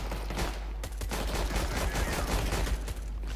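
Gunfire from a first-person shooter video game played on a PC: loud, dense bursts of rapid automatic shots rattling nonstop, with no pause between them.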